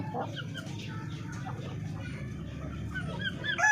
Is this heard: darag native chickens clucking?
yes